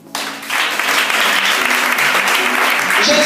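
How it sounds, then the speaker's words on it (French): Church congregation breaking into loud cheering and sustained applause, a dense wash of clapping and voices that swells right away and keeps going at full strength. "Quelqu'un peut acclamer."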